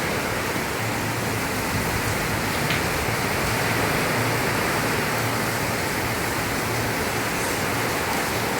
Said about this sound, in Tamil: என்ன சத்தம், என்ன மழை